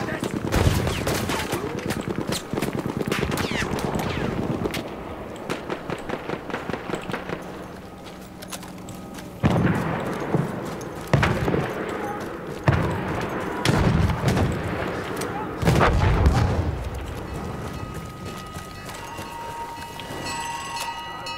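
An enemy artillery barrage pounds a Battlefield 1 battlefield: rapid rattling gunfire first, then a series of heavy, booming blasts spaced a second or two apart, loud and close, with some voices in the mix.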